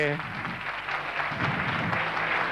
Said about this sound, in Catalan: a veure si aplaudiment per una presidenta tan meravellosa